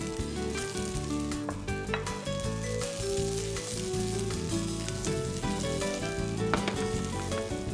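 Bell peppers and garlic fry in extra virgin olive oil in a pan on a hob, giving a soft, continuous sizzle. The hiss stays mostly under prominent background music that runs throughout.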